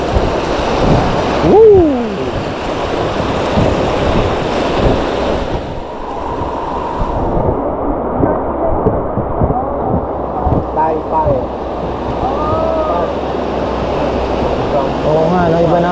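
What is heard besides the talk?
river rapids during whitewater rafting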